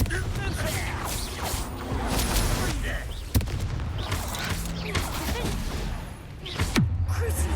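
Confringo explosion spells go off in the Hogwarts Legacy video game, with bursts and booms packed close together inside a dense, loud battle mix. Voices are heard throughout.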